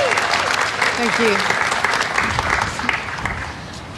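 Crowd applause at the Hands Off Lebanon vigil at Holroyd Gardens, honoring a speaker: a dense, steady wash of clapping from many hands that tapers slightly toward the end, with a brief spoken thanks over it.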